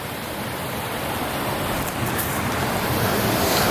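A river rushes steadily in the woods, a dense broadband wash of flowing water heard close and loud, growing slightly stronger toward the end, with no talk.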